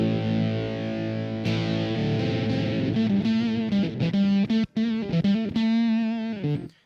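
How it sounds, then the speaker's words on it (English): Electric guitar through a Fender Blender fuzz pedal gives a thick, buzzy, heavily distorted tone: a long sustained note, then choppy, harsh, stuttering phrases with abrupt cutoffs, loud and up close. "it sounds like a distortion pedal underwater"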